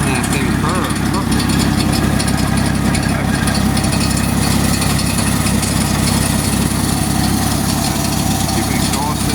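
A 1979 Jeep CJ5 barn find engine idles steadily and loudly up close, a continuous rough drone with a rattly undertone from a worn-out water pump bearing, running alone without talk.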